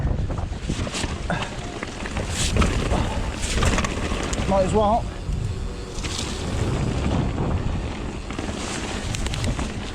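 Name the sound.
strong wind on a mountain bike trail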